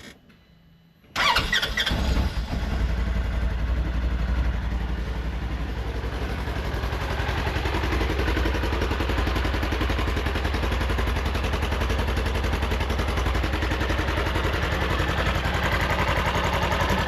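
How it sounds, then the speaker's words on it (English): A Polaris Ranger cranks and fires up after an engine swap, with the clutch cover still off. After a brief near-silence, the engine catches suddenly and settles into a loud, steady idle that runs on. "We're gonna fire it up here, make sure it sounds okay"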